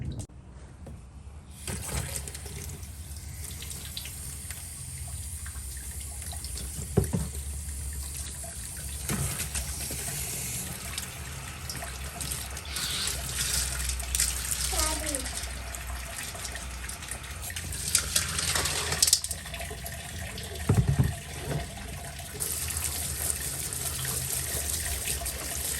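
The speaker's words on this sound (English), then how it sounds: "Forgot to turn my water on." Tap water runs steadily into a sink while brown rock tumbler slurry is rinsed off tumbled dumortierite, a continuous close splashing flow with a few brief knocks and clatters.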